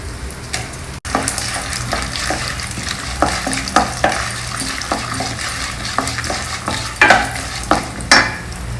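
Urad dal, chana dal, groundnuts and dry red chillies fry in hot oil, a steady close sizzle broken by repeated scraping stirs of a spoon against the pan.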